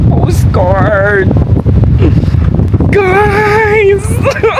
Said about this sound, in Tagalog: Grabe ang hangin. Like sobrang grabe ng hangin.